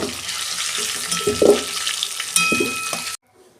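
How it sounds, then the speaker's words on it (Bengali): Bay leaves and whole cumin seeds crackle and sizzle in hot oil, loud and close, with a few sharper spits before the sound cuts off abruptly. "তেজপাতা দিচ্ছি তেলের মধ্যে। আর এই যে গোটা জিরে দিচ্ছি অল্প।"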